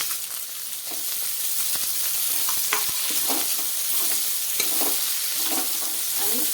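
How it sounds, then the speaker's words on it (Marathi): Cabbage, onion and capsicum stir-fry in a hot pan over a high flame, a steady loud sizzle with repeated scrapes and clinks of stirring throughout, no voices. "कोबी कांदा आणि शिमला मिर्च मोठ्या गॅसवरती दोन एक मिनिट छानपैकी फ्राय करून घ्यायचं आहे"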